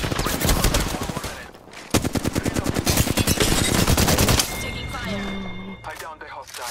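Rapid automatic gunfire in Apex Legends, dense bursts of shots through the first four seconds, then game sound effects and tones, with a voice speaking briefly.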